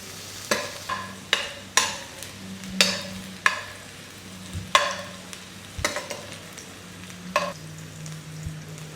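Onions cook gently in a pan over low heat, a soft steady sizzle broken by repeated scraping stirs of a utensil, near and moderately quiet, with no talking.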